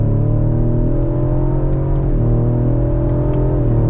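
A 2021 Ford Explorer ST accelerates hard, its engine note climbing steadily through a gear change, loud and continuous from inside the SUV with no talking.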